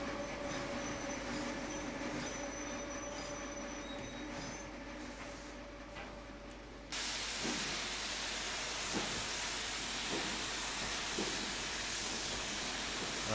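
A Black 5 steam locomotive hauling a long train in Scotland comes to a stop, a loud continuous hiss of steam surging up midway over rumbling, with a few faint squeals and knocks from the wheels.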